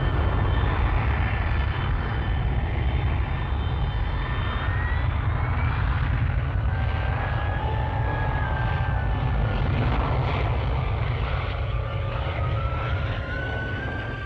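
A Kestrel jump jet aircraft makes a short-run takeoff from a temporary military airfield in 1965, its engine a loud, sustained roar that fills the whole stretch with no voices.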